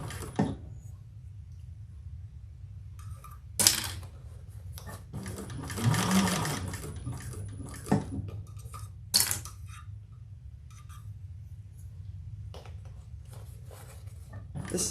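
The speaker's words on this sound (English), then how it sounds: "This is top stitching, so take your time." A sewing machine top stitching, its steady mechanical whir running throughout at moderate volume, broken by a few sharp clicks and brief louder bursts as the stitching speed changes.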